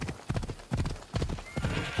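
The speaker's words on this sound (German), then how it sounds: "können wir reiten mit dem Thessaloniki-Pferd" Horse hooves gallop in a steady repeating clip-clop rhythm in Assassin's Creed Odyssey, the horse from Thessaloniki heard close and prominent over game ambience.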